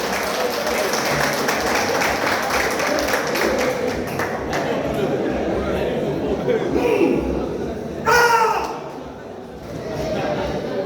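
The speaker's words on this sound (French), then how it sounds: "On peut l'applaudir." Applause from a crowd at a funeral vigil gathering, a dense steady clatter of clapping under loud overlapping chatter and talk, rising briefly near the end.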